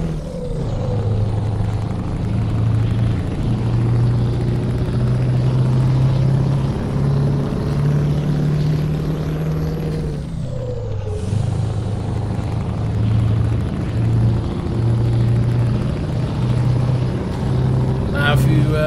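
Euro Truck Simulator 2 with ProMods 2.30 plays a truck engine as a constant low droning hum with a steady tone, which drops briefly as if the gears shift and then resumes. A voice talks over it for much of the time.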